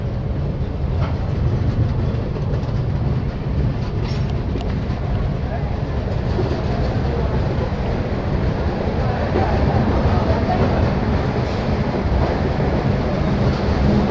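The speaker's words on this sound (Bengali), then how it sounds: "আমার খাবার খাওয়া কমপ্লিট, আর ট্রেনও ধানবাদ জংশন পৌঁছে গেছে।" A passenger train rumbles steadily along with a continuous low roar and faint clatter from inside a carriage, arriving at Dhanbad Junction, loud and unbroken throughout.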